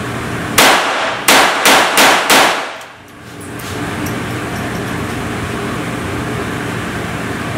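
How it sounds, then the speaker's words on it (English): An HK GSG-5 rifle without a stock is fired rapidly on a range, giving five sharp, loud shots in quick succession, followed by steady ambient outdoor noise. "So what we're going to do is rapid fire, really doing this for speed and more than accuracy."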